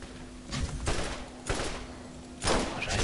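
Sniper rifle fire in Borderlands: several heavy, booming shots spaced irregularly over a few seconds, each a loud broadband blast with a short tail, with no talk over them.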